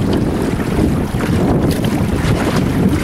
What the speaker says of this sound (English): So the wind is giving us some blowback on there.